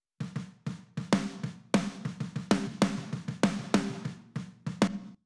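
A snare drum struck in a dense emo/pop punk mix with its room sample muted, sharp dry hits landing in a steady driving pattern over a busy band backing.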